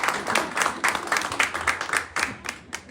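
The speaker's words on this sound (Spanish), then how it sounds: "Vamos a darle un fuerte aplauso." Brief, lively applause from a small audience gathered for a talk about the 1970 eclipse, with uneven rhythmic claps close to the microphone over a low background rumble.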